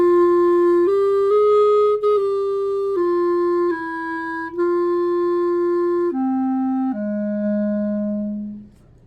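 A clarinet plays measure five of a slow etude: a sequence of about ten sustained, legato notes that step gently up and down before settling lower, ending on a long held tone, played solo and close.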